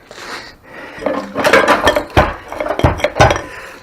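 Metal clinks and clunks as a Ford C4 transmission is pulled apart from a 351 Cleveland V8 engine in a garage, a series of sharp close knocks and scrapes.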